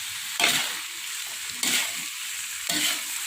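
Jackfruit vegetables stir-fry in a pan, a steady sizzle broken by three scraping stirs spaced about a second apart, close and fairly loud, with no speech.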